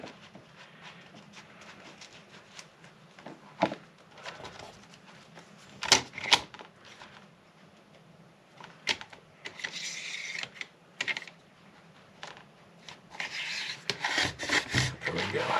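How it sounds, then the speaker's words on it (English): Paper pages being trimmed with a paper cutter at a desk, giving scattered rubbing, rasping strokes and sharp snips, with quiet stretches between cuts and a busier run of scraping near the end. "Now I'm going to use this paper cutter."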